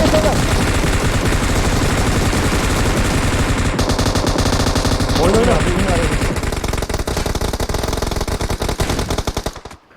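Rapid automatic gunfire from PUBG Mobile rattles continuously and loudly, with dense bursts of shots and voices mixed underneath, fading out at the end.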